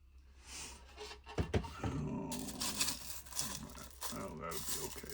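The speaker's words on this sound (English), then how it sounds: "put our water in." Water poured into a rock tumbler barrel with grit and toothpaste for rock polishing, a broad close rushing splash running most of the clip, with faint voices in the background.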